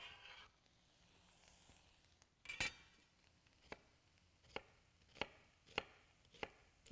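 A knife chops an onion on a cutting board for chili pot pie, with sharp, separate knocks arriving in an irregular, unhurried rhythm after a quiet start, close and moderately loud.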